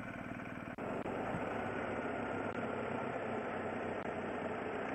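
A car engine hums steadily while driving, a low continuous drone with faint rumble and a couple of brief dips, heard from inside the vehicle with no voices.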